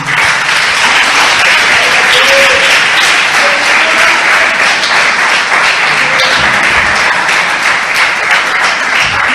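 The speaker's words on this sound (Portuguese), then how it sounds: "Pode dar um aplauso ao Senhor" A church congregation applauding together in a broad, steady wash of dense clapping that fills the space, loud and continuous throughout, with a few faint voices and a brief whistle-like tone rising now and then inside the applause.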